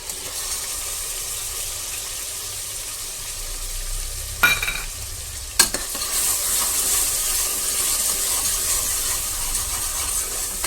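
Ginger, garlic and spice paste sizzling and frying in hot oil in a pan, a steady hissing crackle throughout with a couple of sharp clinks from stirring.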